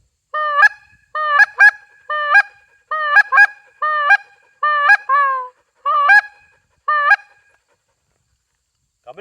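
A goose honks in a rapid run of about nine loud, clear two-note calls close by during bird dog training, then falls silent.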